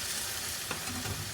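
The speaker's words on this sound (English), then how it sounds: "And what we're going to do is just give that a stir" Chicken risotto with stock sizzles and bubbles in the pan as it is stirred, giving a short, close, continuous hiss with faint scraping and no talking.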